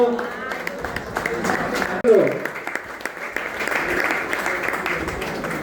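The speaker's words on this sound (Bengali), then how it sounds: "জোরে হাততালি সঞ্জু হালদারের জন্য।" Audience applause at a pigeon club champions award ceremony, a broad wash of clapping sustained across the whole stretch amid crowd noise and voices, with a brief louder burst midway.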